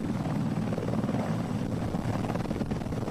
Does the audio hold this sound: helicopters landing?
yes